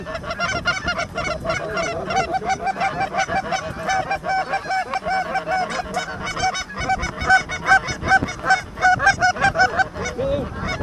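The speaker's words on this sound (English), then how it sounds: "Shortly after getting ready, this group of honkers comes in." A flock of Canada geese honks steadily and loudly as they fly in during a morning hunt, overlapping calls from many birds filling the whole stretch, some close and some farther off.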